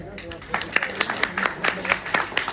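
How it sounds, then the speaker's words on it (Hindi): Applause for the guests and chief guests at a Haryana poetry gathering (kavi sammelan) held at a college in Panipat, a steady patter of clapping from the audience with a voice speaking over it. "सभी का सभी के लिए एक बार जोरदार तालियां बजा दे।"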